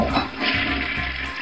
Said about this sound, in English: That means we can flush the potty now.